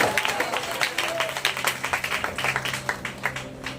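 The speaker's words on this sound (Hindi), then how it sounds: "जोर से ताली बजाओ" A church congregation claps in a steady, rhythmic beat, moderately distant, with a preacher's voice faintly underneath.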